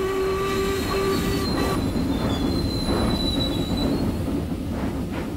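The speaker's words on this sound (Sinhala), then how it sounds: "පළවෙනි වේදිකාවට පැමිණි ශීඝ්‍රගාමී නගරාන්තර දුම්රිය මෙතන සිට තියෙන සියලුම දුම්රිය ස්ථානවල නවත්වන වග කරුණාවෙන් සලකා." An express intercity train pulls into platform one of a cartoon railway station, with steady rolling rumble, bright wheel squeals and high metallic ringing tones throughout, loud and close.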